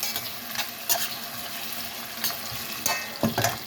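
Onion frying in a pan, a steady close sizzle with a few stirring clatters and scrapes, no voices.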